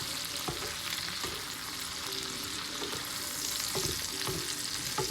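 Mushrooms are stirred in a sizzling pan for a pork dish with asparagus and zucchini, a constant frying hiss broken by several close scrapes and taps of a utensil against the pan.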